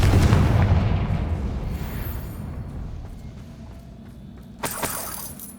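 A Confringo explosive spell goes off in Hogwarts Legacy inside a cavern, a loud booming blast that fades slowly, followed later by a sharp shattering crack.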